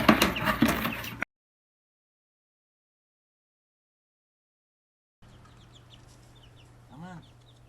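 Backyard chickens, young birds raised from brooder to coop, cluck softly near the end after a burst of loud handling noise and a long silent gap.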